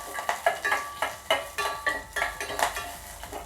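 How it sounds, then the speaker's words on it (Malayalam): A mustard, dried chili and curry leaf tempering stirred in a small pan for Kerala vellarikka pachadi: quick rhythmic scraping strokes of a spoon against metal over a soft crackle, close and fairly quiet, with no voices. "ഇനി ഒന്ന് ഇളക്കി കൊടുക്കുക."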